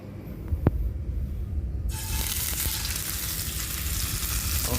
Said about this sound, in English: We're gonna add our tofu block in carefully because it is partially wet.